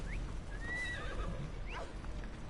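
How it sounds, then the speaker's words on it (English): Battle horse in the video game Assassin's Creed Odyssey gives a sharp whinny followed by snorting neighs, with hoof clip-clops and steady game ambience underneath. "Battle horse."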